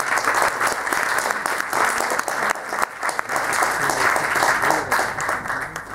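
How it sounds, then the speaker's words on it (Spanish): An audience at a symposium applauds, with dense, sustained clapping from a crowd filling the whole stretch at a loud, even level. "Un aplauso más fuerte para la señora."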